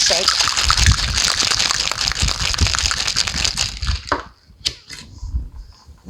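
Ice cubes rattle hard in a cocktail shaker holding an apple cider old fashioned with dissolved sugar, a loud rapid clatter of shaking that stops near the end, followed by a few lighter clinks.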